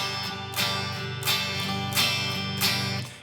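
An acoustic guitar plays steady eighth-note strums, with the up strums sweeping across all six strings so that every stroke rings full and even, in a loud, close rhythmic pattern without any talking.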